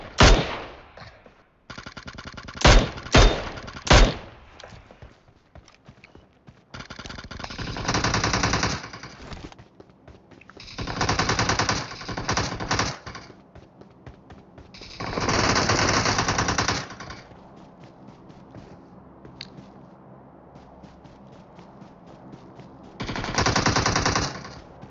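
Video game gunfire comes in repeated bursts of rapid automatic fire with a few separate single shots, loud and close, separated by short quiet gaps with faint background game sounds.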